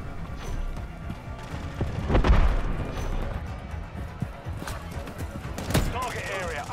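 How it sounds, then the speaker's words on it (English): A thermal grenade goes off amid steady gunfire in a Call of Duty firefight, with a heavy burst near the two-second mark and another sharp blast later, dense shooting and in-game chatter running underneath. "Thermal grenade out!"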